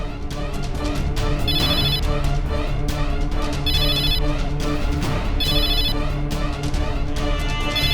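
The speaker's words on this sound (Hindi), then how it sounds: "साहब बजी घंटी साहब।" A phone ringtone chimes in repeated bursts over loud, busy background music, the ringing pattern recurring every couple of seconds.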